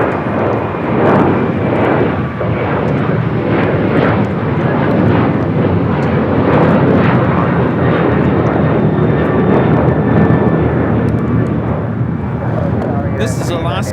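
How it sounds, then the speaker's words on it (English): An Alaska Airlines Boeing 737-900ER jet takes off at LAX, bound for Washington Dulles. Its engines make a loud, steady, broadband roar that holds for the whole stretch, and voices sound faintly beneath it. "This is Alaska Airlines 310 taking off to Washington Dulles on a 737-900ER"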